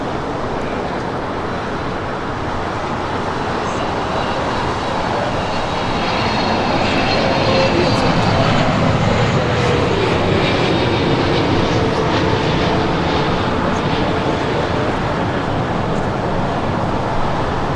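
An airliner arriving from Tokyo Haneda on short final for runway 24 right at Los Angeles International Airport. Its engines give a loud, continuous roar that swells gradually across the whole stretch, with no talk over it.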